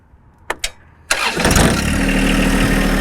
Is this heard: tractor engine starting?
yes